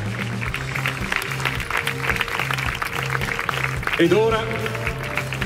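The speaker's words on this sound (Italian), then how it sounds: "le facciamo un applauso a Erika" An audience at the Miss Veneto beauty pageant final in Jesolo claps for a contestant, a steady wash of applause under background music while a presenter speaks briefly.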